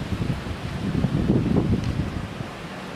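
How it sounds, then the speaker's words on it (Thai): Strong wind in the night after Typhoon Hagibis in Kawagoe, Japan, a steady, broad roar with gusts swelling and easing, buffeting the microphone, and no voices. "แต่ลมค่อนข้างยังแรงอยู่"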